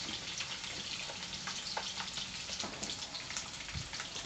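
Pork bones deep-frying in hot oil give off a steady, dense crackling sizzle with scattered pops, continuous and fairly close throughout, with no voices.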